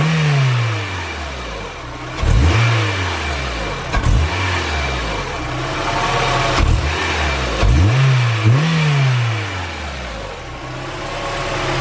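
A Honda Prelude BB6 engine runs up close with a worn front engine mount, idling loudly and revving up and back down in several distinct swells, steady throughout with no talking.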